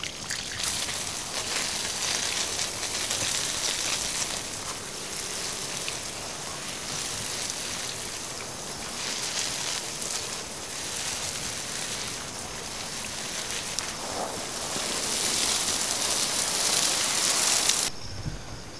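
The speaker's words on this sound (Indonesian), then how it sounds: "kita bisa langsung siram." Water splashing and trickling steadily as a potted adenium plant is watered after fresh growing medium is added, a continuous close spatter that swells louder toward the end.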